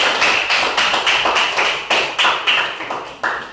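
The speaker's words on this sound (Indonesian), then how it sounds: "mari kita berikan aplaus yang sangat meriah untuk kelompok 2" A classroom group claps in a quick, regular rhythm, with sharp, loud, evenly spaced beats repeating for a few seconds.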